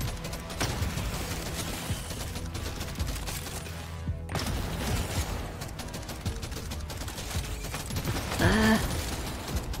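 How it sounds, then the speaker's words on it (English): Shotgun fire from the video game Deep Rock Galactic: Survivor crackles continuously in dense, rapid volleys with a brief break midway, mixed with busy game effects and a short whistling tone near the end. "Shotgun for the win."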